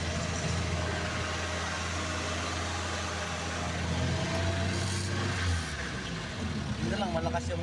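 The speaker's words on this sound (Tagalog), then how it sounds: "Dito lang, malakas yung jeep ni Kuya." A loud jeepney engine runs steadily at People's Park in Tagaytay, its deep rumble constant throughout with broadband road and mechanical noise, and people talk over it.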